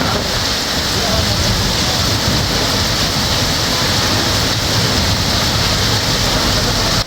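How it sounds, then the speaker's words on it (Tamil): Heavy rain pours in Villupuram, Tamil Nadu, during a windy storm, a dense, steady, loud hiss of downpour that fills the whole stretch without breaks. "சூறைக்காற்றுடன் கனமழை வெளுத்து வாங்கியது"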